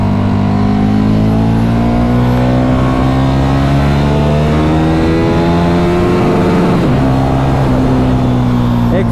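A Kawasaki ZX10R or KTM RC8 superbike accelerates hard, close and loud, its engine note climbing steadily in pitch as it pulls through the gear.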